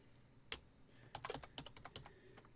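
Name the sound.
typing on a computer keyboard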